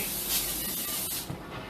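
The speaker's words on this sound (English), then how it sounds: "I'm going to give it a spray." A short hissing spray of natural organic oil coats a baking dish, one sustained burst that tapers off near the end.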